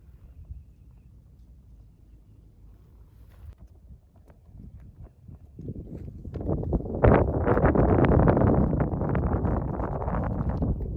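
Wind gusts on a golf course, starting faint and rising after a few seconds into a loud, steady buffeting rush across the microphone.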